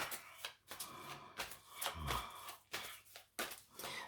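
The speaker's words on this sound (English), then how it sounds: "While I'm just shuffling these cards, give them a good shuffle." A deck of tarot cards is shuffled by hand in repeated quick riffling bursts with short pauses between, close and fairly quiet.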